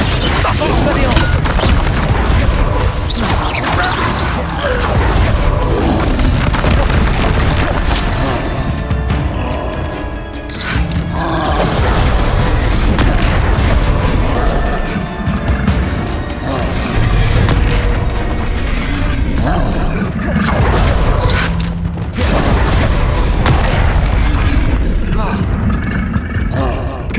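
Confringo fire-spell blasts from Hogwarts Legacy boom repeatedly in a loud, chaotic battle, with heavy crashes and rumbles mixed among shouted spell names and other game voices.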